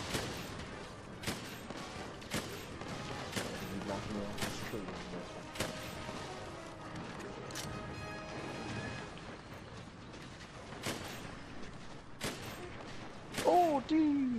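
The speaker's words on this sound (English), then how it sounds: "I got cluster bombs coming in." Cluster bombs burst in Monster Hunter: World as a string of sharp, separate cracks and crashes spread across the stretch, with a louder jumble near the end and quieter game sounds between hits.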